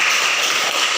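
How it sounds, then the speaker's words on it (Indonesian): Applause from a class audience in a classroom, with steady, bright clapping that fills the whole brief moment. "Iya, tepuk tangan."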